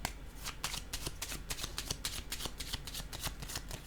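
Tarot cards shuffled close up in quick riffling bursts, a steady run of crisp flutters and soft slaps with no talk.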